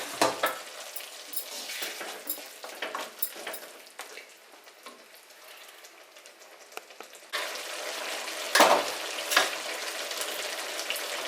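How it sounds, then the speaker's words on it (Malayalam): Chicken for thattipparichathu fries in its own released juices, making a wet, bubbling sizzle close by. Scrapes and stirring knocks come and go, and the sizzle swells louder toward the end. "അപ്പോൾ അതും എല്ലാം കൂടെ ഒഴിച്ച് നമുക്കിതങ്ങോട്ട് ഒന്ന് ഫ്രൈ ആക്കി എടുക്കാം."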